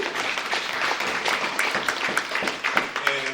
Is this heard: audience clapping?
yes